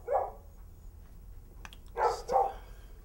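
A dog barks a few times, faint and somewhat distant: one bark at the start, then two more close together near the end, over quiet room noise.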